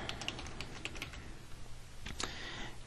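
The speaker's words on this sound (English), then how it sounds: "this is where I would start typing" Quiet keyboard typing with scattered clicking keystrokes, a short burst early, a pause, then a cluster of taps, over a low steady room hum.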